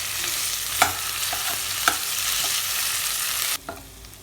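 Tapioca being stirred and sautéed in a pan for a Kerala kappa upma, a continuous close sizzle broken by a few sharp spatula scrapes, cutting off abruptly near the end.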